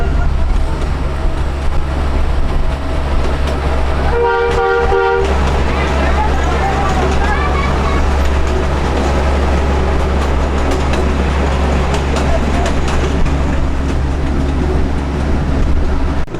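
A small park ride train in Opelika, Alabama, runs with a steady loud engine drone and gives one short horn toot of about a second, close by, while a voice talks over the running noise.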